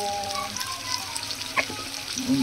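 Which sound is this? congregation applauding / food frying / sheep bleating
food frying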